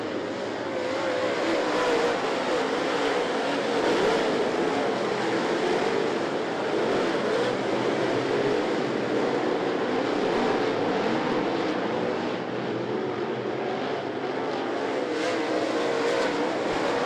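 Steel Head Late Model race cars circle I-75 Raceway in 2014, a dense, continuous roar of several engines held at a loud, steady level with no pauses or talking.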